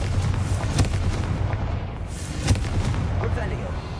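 Confringo fire-spell blasts from the game Hogwarts Legacy boom through a dense, constant rumble of game noise, with a couple of sharper explosive bursts standing out near and loud.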